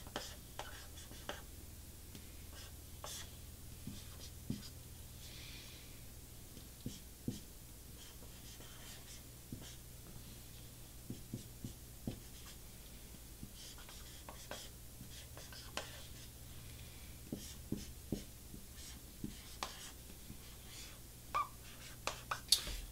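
A pen sketches a simple fuzz-pedal circuit diagram on paper, quiet scratchy strokes and taps coming in irregular bursts, close and soft against a low hum, with no talking.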